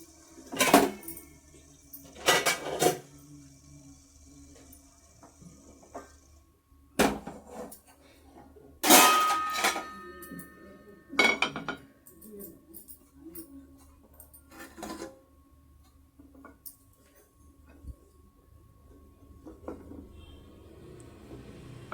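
Steamed kolukattai are moved into a vessel, with several separate bursts of metal clanking and scraping of utensils against a pot, spread out between stretches of quiet.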